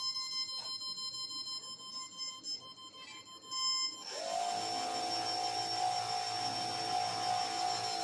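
A small amphibious competition robot powers up from a newly connected battery, giving electronic startup beeps: a short tone early on, then a steady high tone with a loud, even hum or whine that holds to the end.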